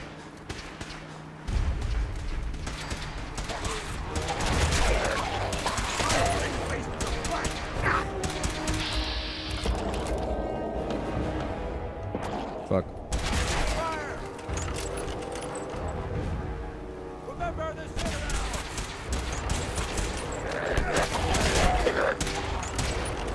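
Gunfire from the video game Fallout 4 rings out as a dense stretch of repeated shots and clattering impacts over a steady game soundscape, loud and continuous for most of the span, with a voice talking over parts of it.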